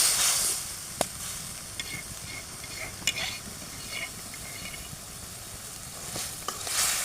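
Fish and roasted cumin sizzle steadily in a frying pan over a village cooking fire, a constant hiss broken by a few sharp clicks of stirring.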